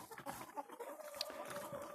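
Chickens cluck softly in short, scattered calls, fairly close, with no talking.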